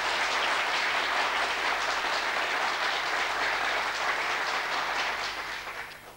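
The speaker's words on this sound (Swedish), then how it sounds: "En lång varm applåd fick du" A studio audience on a television show gives long, warm, sustained applause, a thick steady roar of clapping that holds evenly before fading at the end.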